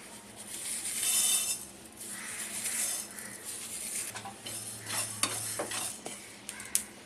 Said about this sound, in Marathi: मेथी भाजून झाली आहे